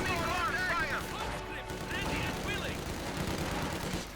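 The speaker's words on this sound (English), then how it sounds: "Katyusha, a rocket launcher." A Soviet Katyusha rocket launcher fires in the real-time strategy game Company of Heroes 2, producing a continuous dense barrage of rumbling bursts with whistling streaks, under a commentator's voice.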